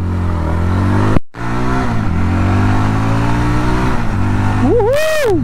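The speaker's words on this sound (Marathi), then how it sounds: "आपण आता टॉर्क बघूया, 0 to 60 किती वेळात जातं आणि 0 to 80 हे किती वेळात जातं" A 2023 Yezdi Roadster BS6 motorcycle accelerates hard from a standstill, its loud, close engine note climbing through the revs with a short break between gears, and a voice gives a rising whoop at the end.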